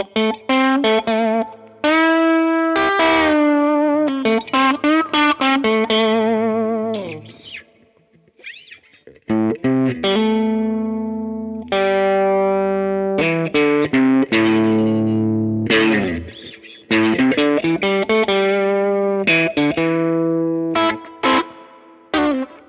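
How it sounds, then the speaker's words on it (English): Overdriven electric guitar through a Fender Blues Junior Limited Edition amp with the fat switch engaged, loud and continuous with strummed chords and sustained notes, brief pauses between phrases, no talking. "Let's push the amp some and see what it sounds like with the fat switch on."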